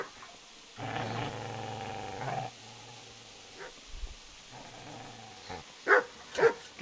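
Dog in the medieval game Kingdom Come, a sustained low growl followed by a couple of sharp, close barks.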